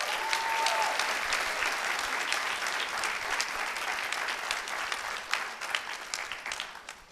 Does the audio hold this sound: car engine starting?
no